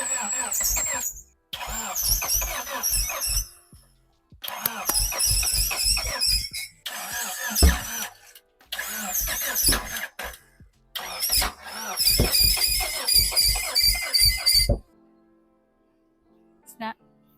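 Repeated bursts of an EG hatchback's engine cranking without catching, each several seconds long with short pauses between, loud and close, ending in quiet.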